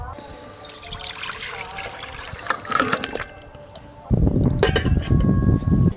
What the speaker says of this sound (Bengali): আগে থেকে আলু কেটে জল দিয়ে ভালো করে ধুয়ে রেখেছি জল সমেত দিয়ে দেবো